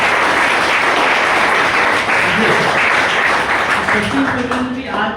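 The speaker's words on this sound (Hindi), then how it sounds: "जोरदार ताली दीजिए।" A large audience at a Panipat seminar claps loudly and continuously, a dense wash of applause that thins slightly toward the end, with a voice faintly audible underneath.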